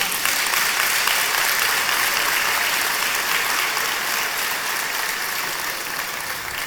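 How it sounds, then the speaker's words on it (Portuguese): A church congregation claps together in sustained, dense applause, steady and loud throughout with no pauses. "Para a glória de Deus, eu acho que você devia aplaudir Jesus."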